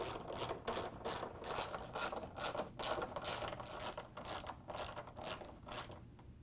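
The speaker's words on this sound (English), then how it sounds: "we can use the ratchet with the 10mm socket to put the bolts back in" Ratchet with a 10mm socket tightening bolts on a Samsung fridge door, quick rhythmic clicking in repeated short bursts, close and fairly quiet, without speech.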